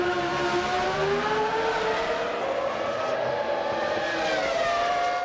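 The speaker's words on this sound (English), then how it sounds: "Irvine headed down the pit lane at the A1 ring to be greeted by his new teammate Mika Salo" Ferrari Formula 1 car from the 1999 season heading down the pit lane at the A1-Ring, its engine a steady, loud high-pitched whine with gently rising harmonics, heard continuously and close throughout.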